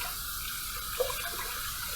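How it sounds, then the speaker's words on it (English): Tap water runs steadily to soak a synthetic shaving brush knot, a continuous close hiss with a brief splash about midway, with no talking. "Now we're going to add some water, but we're going to soak this knot a little bit here, avoiding water on the handle."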